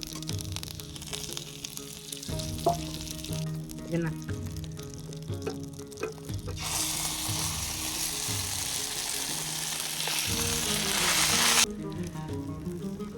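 Cumin seeds and curry leaves hit hot oil for a semolina handvo, and a loud, steady hiss builds and holds while soft kitchen clatter continues around it.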